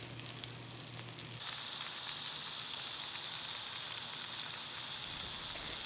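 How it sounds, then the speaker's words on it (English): Trader Joe's pancakes sizzle steadily in a hot pan, a dense, even crackling hiss that jumps up after the first second and then holds close and loud with no talking. "So after the crackle of the bacon, we have the sizzle of the pancakes."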